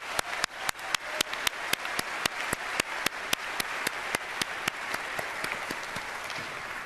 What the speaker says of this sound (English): Big hand for Doug Jamal